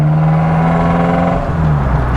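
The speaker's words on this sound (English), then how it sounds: "have a rather interesting exhaust note, and that's not standard" A 1997 BMW Z3 idles with a modified, non-standard exhaust, giving a loud, steady, droning engine note with a low hum throughout and a slight dip and recovery near the end; no one talks.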